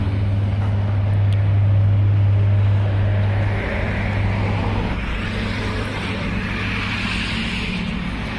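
A 7 hp Indian Agro Power weeder rotavator engine running steadily nearby, a continuous low droning hum that is strongest early and then eases slightly, with no one speaking.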